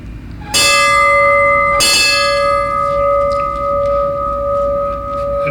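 Two strikes of a ceremonial bell at a US Navy Seabees memorial statue dedication in 2008, each ringing out loud with a long sustained hum that lingers and slowly decays.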